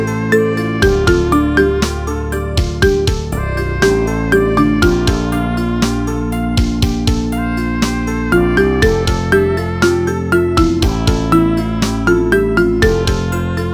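An iPhone ringtone, a marimba remix of a pop song, plays loud and clear: bright mallet notes in a repeating melodic pattern over sustained low tones, continuous and alone with no voices.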